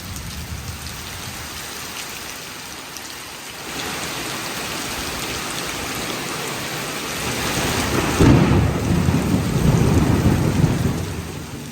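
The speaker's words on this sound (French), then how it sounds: "La pluie, jamais bien loin pour nous rappeler que l'automne est à notre porte, n'a pas manqué à l'appel." Autumn rain falls steadily, a dense close hiss of drops on surfaces that swells louder partway through, with low rumbles of thunder beneath and no voices.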